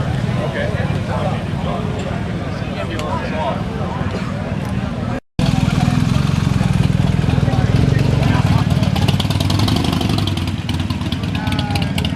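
Harley-Davidson motorcycle engines rumble and idle at an outdoor bike-and-breakfast meetup, a steady low throbbing with revving swells, with people talking underneath and a brief cut midway.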